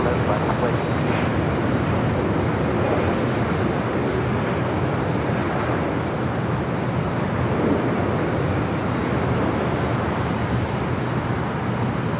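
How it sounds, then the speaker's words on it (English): A United Boeing Dreamliner jet airliner at LAX gives a steady, broad engine roar that holds at an even loudness for the whole stretch, with no clear pauses and no voices standing out. "Got that United Dreamliner"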